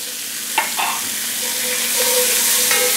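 Garlic hitting a pan of browning onions gives a steady, close frying sizzle, with a few scraping stirs near the start and thin hissing tones drifting through the rest.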